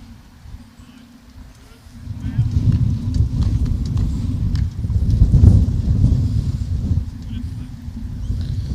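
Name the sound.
strong wind blowing across the microphone at a football ground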